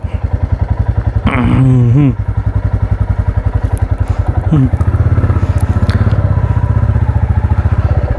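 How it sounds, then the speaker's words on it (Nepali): A motorbike engine fires up and settles into a steady, loud, close idle with a regular throbbing pulse; the revs rise briefly twice, and the engine keeps running throughout. "ल अब म सट्ट बाइक स्टार्ट गर्छु"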